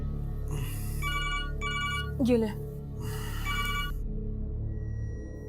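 A mobile phone rings indoors with repeated short melodic ringtone bursts, fairly close, while people speak briefly over it.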